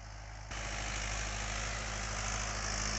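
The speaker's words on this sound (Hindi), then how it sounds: "क्या गजब की चाल है ट्रैक्टर की, बिल्कुल नया ट्रैक्टर है 2019 मॉडल है।" A 2019 Mahindra 575 DI tractor engine runs with a steady, heavy diesel drone that steps up in loudness after a moment and holds constant, close and alone.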